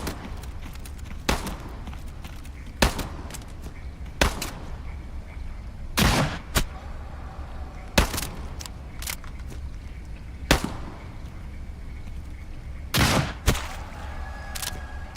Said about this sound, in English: Man, this shotgun's a fucking slayer, dude. Even for a double barrel.